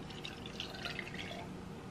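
Iced coffee mixture poured into a mason jar full of ice, a soft, close trickle with small splashing and clinking sounds running through the short moment.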